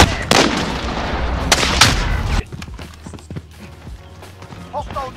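Sniper rifle gunshots in a video game, a few loud sharp cracks in quick succession early on, followed by quieter in-game ambience and footsteps, with players talking over it.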